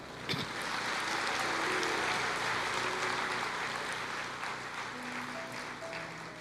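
A church congregation applauds, a broad steady roar of clapping with faint sustained musical tones and a sharp knock near the start, fading slightly toward the end.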